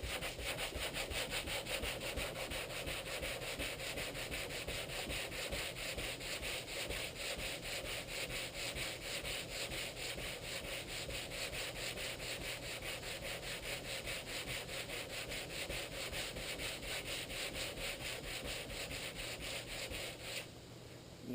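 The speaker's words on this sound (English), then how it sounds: "a good hour of sanding by hand, like this" Steady, continuous hand sanding on the body panel of a 1994 Dodge Dakota, a rough rhythmic scraping that runs for the whole stretch without pause, close and fairly loud.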